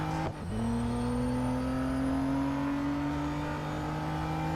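A NISMO R33 car engine in Real Racing 3 on a track day, with a short dip then a loud, sustained, gradually rising engine drone as the car accelerates steadily, no voices.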